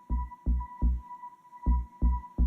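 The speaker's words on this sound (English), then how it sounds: "I have a kick drum, kind of like a bass kick drum on track 1 that sounds like this" An electronic bass kick drum on a live pad setup thumps in a steady, punchy pattern, six deep hits with a short gap midway, over a constant thin electronic hum.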